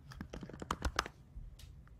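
Typing on a computer keyboard at a desk, a quick run of about a dozen light clicks over two seconds, close and fairly quiet, with no one talking.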